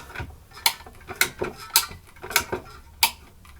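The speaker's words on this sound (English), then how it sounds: "Now we'll get the Blue Light Special machine going." A PEX crimping machine pressing fittings onto a kitchen supply line during a remodel: a series of five sharp mechanical clicks at irregular intervals, close and fairly loud, with no talking.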